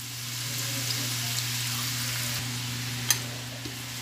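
Carrots frying briefly in a pan for Kapampangan-style fried rice give a steady, close, soft sizzle with a low constant hum beneath and one small click near the end, and no talking.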